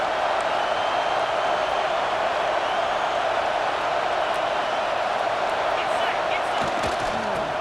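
A large stadium crowd in EA Sports College Football 26 roars loud and steady throughout, a dense, unbroken wash of cheering with faint thumps underneath.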